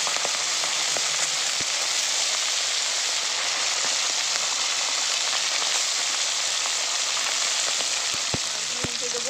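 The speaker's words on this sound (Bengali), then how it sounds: "এবার মাছগুলো দিয়ে দেবো। মাছগুলো খুব সাবধানে ভাজতে হবে।" Pabda fish sizzle in hot salted oil in a karahi, a dense, steady crackling hiss like rain with occasional sharp pops, close and loud throughout, with no talking.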